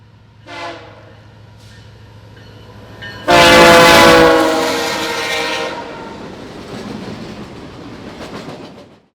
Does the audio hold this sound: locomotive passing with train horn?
yes